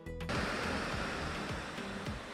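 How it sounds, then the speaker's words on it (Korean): Catarata del Toro, a roughly 90 m waterfall plunging straight into an extinct volcanic crater, heard from near its base as a loud, steady roaring rush of pouring water with no voices. "폭포는 우렁차게 물줄기를 분화구로 퍼부으며 주위의 바위들과 원시림들과 잘 어울려 장관을 이루고 있었습니다."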